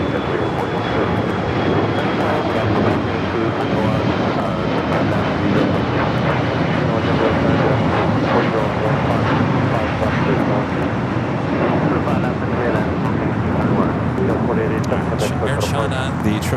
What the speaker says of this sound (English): Air China, the 777-300ER heading down to 25 right